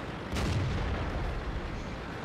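A single heavy, booming cannon shot from a Chi-Nu Kai Japanese premium medium tank in World of Tanks, loud and close, with a broad blast that rumbles on without fading.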